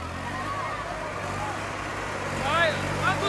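A tractor engine labours under load in a Sultan versus Swaraj tochan tug-of-war, a steady low rumble that rises toward the end, with voices shouting over it.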